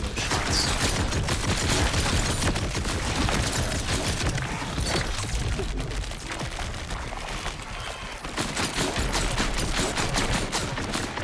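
Rapid gunfire from a looter-shooter video game boss fight against Bloomreaper on UVHM, dense continuous volleys of shots and impacts filling the whole stretch with no talking.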